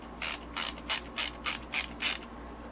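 Film being wound on in a 110 film camera: six crisp ratcheting clicks in an even rhythm, close and fairly quiet, with no talking.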